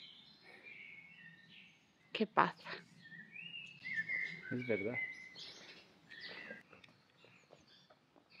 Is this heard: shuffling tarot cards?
no